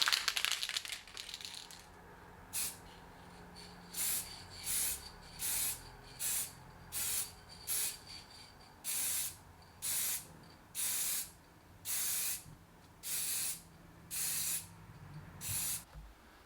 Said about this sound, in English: now I'm going to do the first light coat of silver